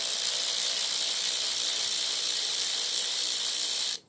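Ratchet wrench with a 5/16 socket loosening a carburetor stud on a Briggs 12 HP flathead engine, a fast continuous clicking whir held steadily close up before cutting off abruptly.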